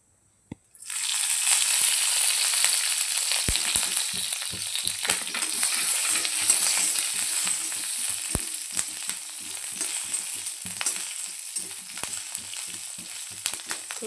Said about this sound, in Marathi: थोडंसं तेल टाकून छानपैकी आपण मिरच्या त्यामध्ये भाजून घेऊया।